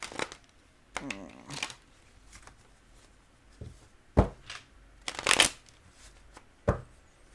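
Crisp bursts of tarot cards being riffled and bridged, several quick shuffles separated by short pauses, close and fairly loud in a quiet room.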